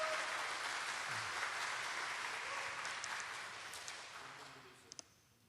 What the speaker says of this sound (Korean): 우리 야구부 고등부 학생들에게 우리 격려의 박수 한번 부탁드리겠습니다